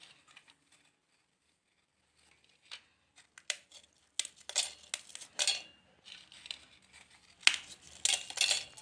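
Marie Gold biscuits snapped into pieces and dropped into a grinder jar make sparse, quiet crisp snaps and light clinks, coming in irregular bursts that grow busier toward the end, with no speech.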